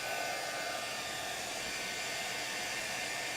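A heat tool blows steadily to dry ink and heat foil on a stamped metallic card, a constant close airy roar without pause.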